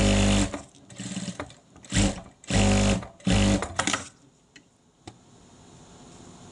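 A sewing machine stitches fabric in several short, loud bursts with brief gaps between them, then falls quiet apart from a couple of faint clicks.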